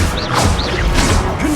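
A Levioso levitation spell goes off in Hogwarts Legacy with a loud, whooshing crash and rising swirls of magical shimmer, packed into a short, dense burst.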